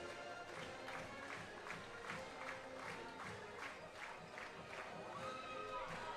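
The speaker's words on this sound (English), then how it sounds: "And the crowd is getting them hyped for sure" Stadium crowd at a women's college soccer match between Michigan and Indiana, cheering and clapping just before kickoff, a continuous distant roar with rhythmic rising swells of noise.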